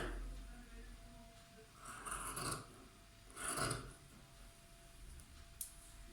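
Scissors cut trouser fabric up close in two distinct rasping strokes, each about half a second long, with a fainter snip near the end over a quiet background.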